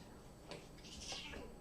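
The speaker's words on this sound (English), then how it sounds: "And I have a cat." A house cat meows once or twice indoors, a short faint call in a quiet room with low background hum and no talking.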